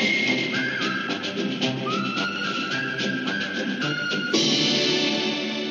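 A film tune from a David Lean picture is whistled as a bright, steady melody over full band accompaniment, which swells louder near the end.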